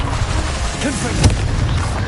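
A Confringo fire spell bursts in Hogwarts Legacy amid constant spellcasting noise, one brief sharp blast standing out loud and close over a busy, roaring combat bed.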